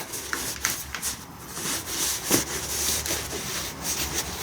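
Hand hacksaw strokes cutting a greasy part from a John Deere 2032R mower drive shaft held in a vise, giving a steady close rasping rub with rhythmic back-and-forth strokes and no talking.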